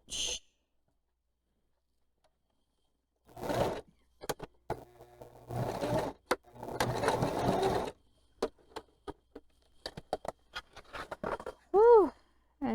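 A domestic sewing machine stitches an ID card holder in short runs of whirring, with quiet pauses and scattered clicks between bursts, and a brief whistle-like tone near the end; close and clear.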